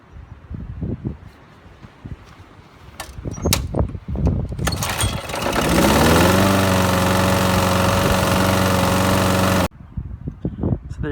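A Briggs & Stratton lawn mower engine, fresh spark plug fitted, sputters, then catches and settles into a steady, loud idle for several seconds before cutting off abruptly, after some clattering handling noises.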